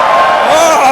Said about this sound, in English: Give me a cheer if you're not students here.